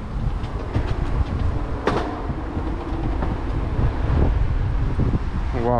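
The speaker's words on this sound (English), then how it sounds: "Wow, it's really windy out here." Strong wind buffets the microphone on an outdoor garden terrace of a San Francisco skyscraper, a continuous loud roaring rush with occasional thumps and gusts and no talking.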